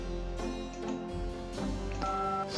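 Touch-tone telephone keypad dialing 011 in the Gabriel Knight adventure game, a short run of three clear tones with brief pauses between them, fairly quiet.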